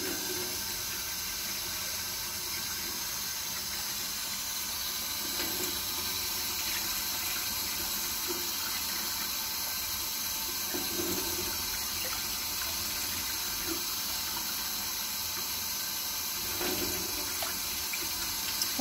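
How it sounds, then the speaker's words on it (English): Water running steadily from a kitchen sink tap into a container while measuring cups of water, a constant rushing stream at moderate level with occasional faint clinks and shifts. "let's go to the sink"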